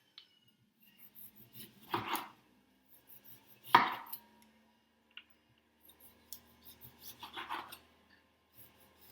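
Knife cutting a couple of tomatoes for a salad, a few separate close slicing strokes on a board, each with a short scraping rasp, with quiet gaps in between.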